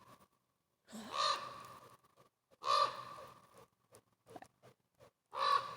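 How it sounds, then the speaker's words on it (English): Ravens calling outdoors in loud, harsh croaking caws, three main bursts spaced a second or more apart with a few fainter calls between, fairly close and alone without talk. "The ravens are having a party. Can you hear them?"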